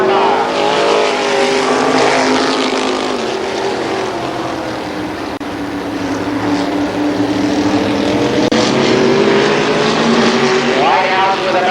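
Modified race cars roar around the Columbus Motor Speedway oval, a steady loud drone of several engines passing with rising and falling pitch, while a commentator talks over the racing.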